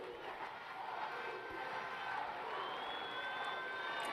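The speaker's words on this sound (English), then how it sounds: "The crowd fully getting into it here in Tegucigalpa." Football stadium crowd in Tegucigalpa at a women's international match, a broad, steady roar of cheering and shouting that swells slightly, heard from a distance with no clear individual voices.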